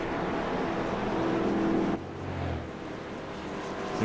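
Race cars in the iRacing NASCAR simulation of the Daytona 500 roll down pit road with a steady engine drone that drops to a lower rumble halfway through, heard without talk.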